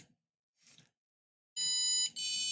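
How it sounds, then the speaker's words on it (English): An electronic alarm beeps in a steady two-tone pattern, bright and piercing, starting abruptly after a quiet stretch with faint background noise. "it's got a nice 2-tone alarm on there"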